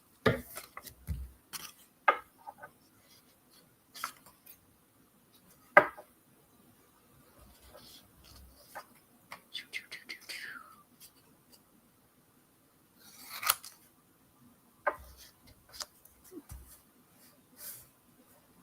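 Paper cutout for a kids' mixed media tree art project being trimmed: scattered short snips and crisp rustles, close and fairly quiet, in irregular bursts with pauses between.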